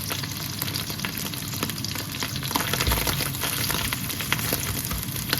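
Meat or a meat substitute frying in hot oil for Zurich geschnetzeltes, a dense, crackling sizzle that holds steady and close, with a brief stirring bump partway through.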